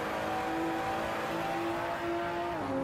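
A sim racing car at Red Bull Ring drones with a steady engine note from a video game, its pitch holding and then shifting near the end as the throttle comes in, loud and continuous.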